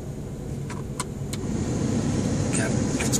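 The heater blower fan in a Dodge 3500 van runs at full blast, a steady broadband whoosh that grows slightly louder, with a few faint clicks and a voice speaking briefly.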